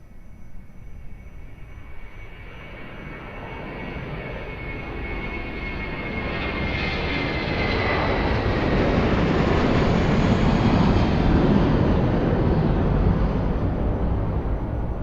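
A plane taking off from runway 02 at Lisbon Airport, jet engine roar building steadily from a moderate rumble to a loud, sustained broadband roar heard from a distance with no voices.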